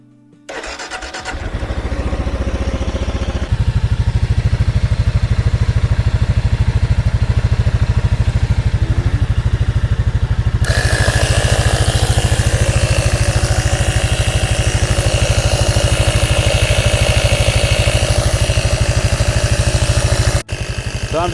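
A third-generation Kawasaki KLR motorcycle, in neutral, cranks and catches, then settles into a loud, steady single-cylinder idle that runs without pause for about twenty seconds, with the tone shifting partway through and a brief dip near the end.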